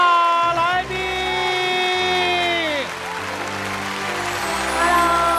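A TV variety-show studio audience applauds to welcome a singer, the clapping mixed under loud music that plays throughout.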